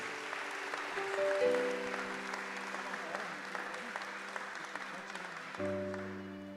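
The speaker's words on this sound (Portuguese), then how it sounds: "Então aplauda o Senhor mais uma vez." A church congregation applauds steadily through the whole stretch, moderately loud, while sustained organ or keyboard chords ring underneath.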